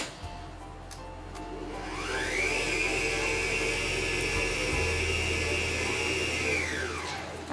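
A stand mixer beats butter for a red velvet cake, its motor whine rising as it speeds up, holding a steady loud drone, then winding down at the end.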